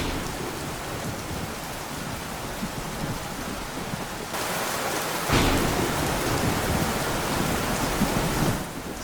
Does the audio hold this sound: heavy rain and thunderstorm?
yes